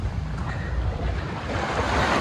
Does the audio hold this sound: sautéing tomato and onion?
no